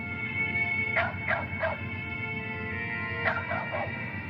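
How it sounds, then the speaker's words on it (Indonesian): A dog in a forest barks from a distance, three quick yelps, then a pause, then two or three more, faint and echoing over a steady background hum. "anjing tersebut tampak takut untuk mendekat dan hanya berani menggonggong dari kejauhan"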